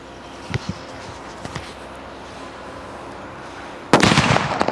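Faint pops crackle over a background hiss, then a loud Diwali firecracker bomb blast erupts near the end, its rough burst lingering to the close.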